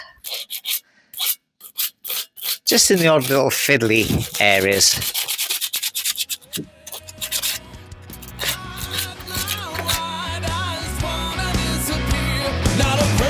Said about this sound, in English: I'm just going to go over this in a few areas where I'm not quite happy with the sanding, just by hand